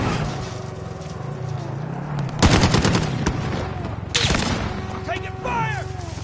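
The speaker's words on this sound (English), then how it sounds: "Taking fire!" Bursts of video game gunfire, including machine-gun volleys, erupt in a military shooter on PS4, with two loud flurries standing out over a continuous background mix of game noise and voices.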